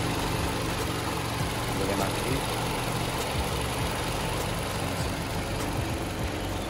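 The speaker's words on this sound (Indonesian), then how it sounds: "menggunakan dual VVT-i dan dengan mesin ini minim getaran karena dia sudah menggunakan mounting di 4 sisi" A 2020 Toyota Camry with a dual VVT-i engine idles, a steady, smooth low hum, while someone talks over it throughout.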